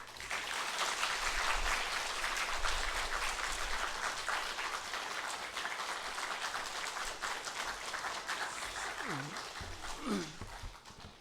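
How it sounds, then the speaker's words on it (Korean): A church congregation applauds at length to welcome the pastor at a Korean Sunday service in Suwon, steady dense clapping that fills the room and slowly thins toward the end. "우리 목사님 나오실 때에 환영의 박수로 또 사랑의 박수로 우리 맞이하도록 하겠습니다"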